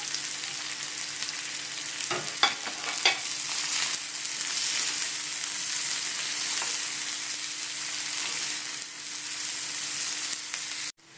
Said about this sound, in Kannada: ಈಗ ನಾನು 2 ಮೀಡಿಯಮ್ ಸೈಜ್ ಈರುಳ್ಳಿ ಕಟ್ ಮಾಡಿರೋದು, ಸ್ವಲ್ಪ ಕರಿಬೇವು, ಒಂದು 5 ಹಸಿಮೆಣಸಿನ್ಕಾಯಿ ಕಟ್ ಮಾಡಿರೋದು, ಇಷ್ಟು ಹಾಕ್ಕೊಂಡು ಫ್ರೈ ಮಾಡ್ಕೊಳ್ಳೋಣ.